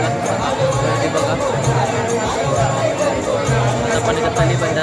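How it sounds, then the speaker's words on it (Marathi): A dense crowd fills a temple on New Year's Day, a steady, close hubbub of many overlapping voices and general bustle with no pauses. "एवढी गर्दी आहे बघा"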